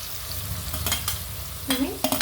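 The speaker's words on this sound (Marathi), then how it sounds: "आता फोडणीमध्ये घालू शकता आणि भाज्या जास्त शिजवायच्या नाही आहे" Vegetables for Schezwan rice are stir-fried in hot tempering oil, giving a loud, close sizzle broken by bursts of scraping from a spoon tossing them in the pan.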